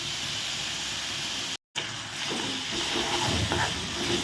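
Onions sautéing in a pan for a bread-based evening snack, a steady broadband sizzle and hiss that runs throughout, briefly cut out near the middle and then resuming with faint low clatter.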